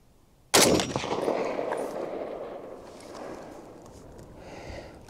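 One loud, sharp Springfield Armory M1A Standard Walnut rifle shot on an outdoor range, followed by a long rolling echo that fades over several seconds.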